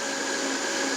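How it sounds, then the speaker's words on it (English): A blender running at high speed, blending chilies for a chili sauce, gives a steady, loud whir that holds evenly throughout with no speech. "You're gonna start your blender on low, and then you're gonna build up the speed."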